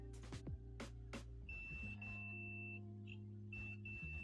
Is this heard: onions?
no